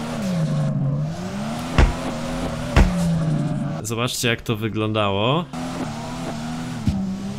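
A car drifts in the DRIFT21 racing simulator, its engine droning and rising and falling in pitch as it spins around on the foot brake. Tires squeal in between, a couple of sharp knocks sound, and someone talks over it.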